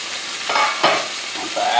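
A brief, steady sizzle of chicken frying in a pan with a couple of soft stirring scrapes, close and moderately loud.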